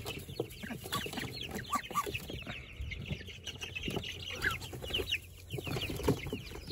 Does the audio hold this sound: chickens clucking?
yes